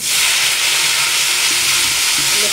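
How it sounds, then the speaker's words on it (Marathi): Loud, continuous hissing sizzle of spices hitting hot oil, close up and unbroken, with faint clinks in the background. "आता फोडणी देऊन घेते"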